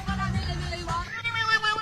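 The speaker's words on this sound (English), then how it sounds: "that's a cat." A cat meows from a video played back during a podcast, a loud wavering yowl lasting under two seconds, with people talking faintly over it.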